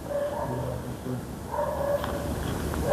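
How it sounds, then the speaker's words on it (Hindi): Dogs bark intermittently at a distance in a large, foul-smelling place being investigated, a few muffled yelps rising over low background rumble with no talk. "कुत्ते भौंक रहे"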